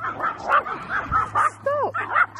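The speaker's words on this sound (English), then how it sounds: "Oh, you're setting all the neighbourhood dogs off now." Several neighbourhood dogs bark and yip in short, repeated bursts on a UK street decorated for Christmas, with a whimpering note mixed in and a faint hum running underneath.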